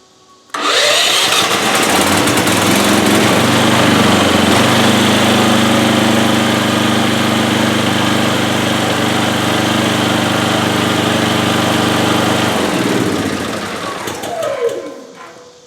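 A Wen 6250 portable generator engine starts and runs steadily with a loud, buzzing drone for several seconds, then winds down and stops near the end.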